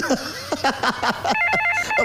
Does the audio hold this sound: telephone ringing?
yes